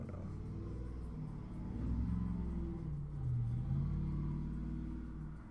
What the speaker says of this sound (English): oddly loud car.